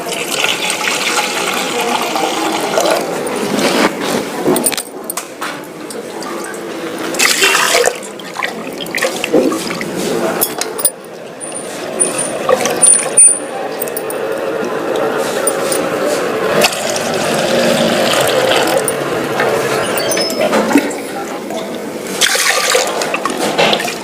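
Grains are washed clean in water in a kitchen, with running and sloshing water in repeated bursts and pauses, while a person talks intermittently.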